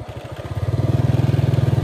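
Close motorcycle engine putting along while being parked near a sandy fishing spot, a steady rhythmic chugging that grows louder and more regular, with no speech.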